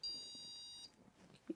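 Single short, high electronic beep from a Prusa 3D printer during load cell calibration, clear and close in a quiet room.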